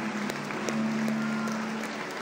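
Congregation applauding for Jesus during an Easter church service, a sustained even wash of clapping heard at a moderate distance over a faint steady hum.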